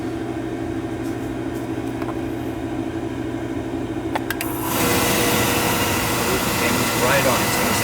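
A Beckett oil burner lights with a sharp transition from a steady low hum to a louder, broadband roar that holds steadily, close and continuous, with no talking over it.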